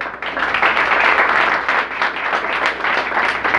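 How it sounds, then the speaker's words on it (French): A crowd at a school event in Jacmel applauds an assistant director of secondary education, loud close clapping that swells and continues briefly. "que je vous demande d'applaudir"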